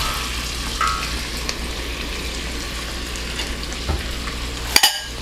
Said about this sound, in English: So Paige, go ahead and add 1 onion, diced. All right, and the 2 carrots cut in chunks.